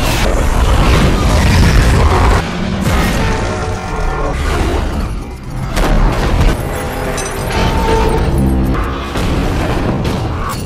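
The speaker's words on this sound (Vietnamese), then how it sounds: "Dreyfus đã nắm lấy dây dẫn của quả bom và cho nổ bom tại đây." A bomb detonates in a war scene from War for the Planet of the Apes, a loud sustained roar of blast and crashing debris with rumbling booms and swells running continuously for about ten seconds.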